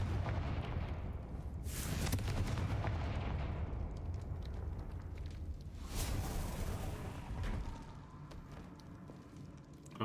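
A Confringo fire spell exploding in the Hogwarts Legacy video game, with two loud booming blasts that each trail into a rumbling, crackling tail.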